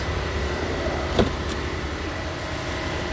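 A Mercedes-Benz CLA on a test drive after servicing, with a steady low road and engine rumble throughout and one brief sharp click near the middle.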